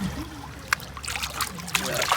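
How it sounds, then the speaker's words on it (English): Water splashes and trickles over a muddy Jeep Wrangler during a DIY trail cleaning, a close, uneven rinse with sharp spatters, under faint talk. "Give her a good old rinse."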